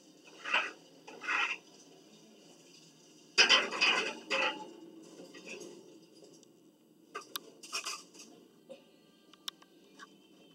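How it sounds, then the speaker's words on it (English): A cornbread pan going into a home oven while making a New Year's Day dinner: a few sharp metallic clanks and clatters of pan against rack, spaced out over several seconds, fairly close and moderately loud. "So, now, just to put it in the oven."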